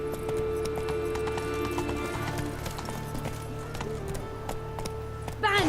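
Horse galloping in The Witcher 3, steady rhythmic hoofbeats running throughout over constant background sound, with a brief whinny-like sound at the very end.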